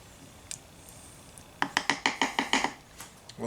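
Utensil stirring Hungarian goulash in a slow cooker, a quick run of about ten rhythmic clinks and scrapes against the pot in the second half, near and fairly loud, after a few faint taps.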